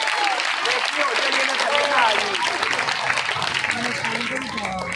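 A crowd at an Independence Day program claps steadily and fairly loudly for several seconds, with voices talking over the applause.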